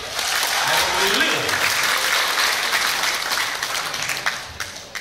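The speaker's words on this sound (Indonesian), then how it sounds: "Tepuk tangan untuk Dude." Dense, loud applause from a crowd at an Indonesian charity group's anniversary gathering, sustained for several seconds before thinning out toward the end.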